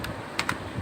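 Typing on a computer keyboard while configuring a router, a few quick close key clicks, two sharper taps in the middle, over a soft steady background.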